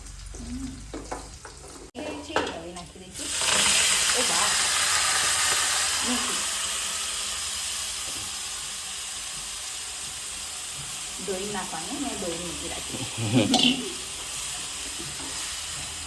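Fenugreek leaves (methi) sauté in a hot pan with a loud, steady frying sizzle, stirring scrapes cutting through, while someone talks over it at the start and later on.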